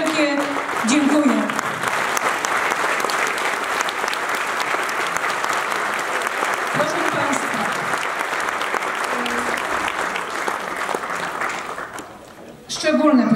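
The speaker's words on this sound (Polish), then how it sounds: "Wielkie brawa i wielkie dziękuję." Sustained audience applause fills the hall at the finale of a folk song and dance ensemble's wedding-themed stage show, steady and dense for about thirteen seconds, with brief voices at the start and end.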